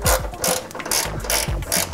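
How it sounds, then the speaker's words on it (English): A hand ratchet clicks in quick bursts while tightening the upper A-arm bolt on a Honda S2000 suspension, several close, crisp back-and-forth strokes with brief pauses between them. "So what I'm gonna do is I'm gonna tighten the upper A-arm first."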